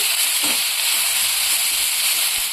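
Grated carrot and onion fry in a pan with a steady, soft sizzling hiss throughout, with no talking.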